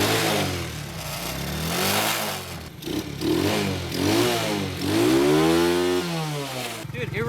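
A cheap $50 quad ATV engine runs loud and close, its pitch swinging up and down through repeated revs with a rough, buzzing drone and a brief lull near the end.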